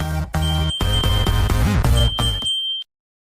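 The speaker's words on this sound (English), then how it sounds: "Subscribe now and press the bell icon." A notification bell dings as a short, loud electronic jingle ends, with a bright tone ringing briefly before abrupt silence.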